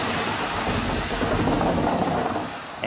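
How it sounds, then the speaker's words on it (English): A staged sound effect of a rainstorm: heavy rain pours down in a steady, dense roar, with a low rumble of thunder rolling underneath. "A driving rainstorm."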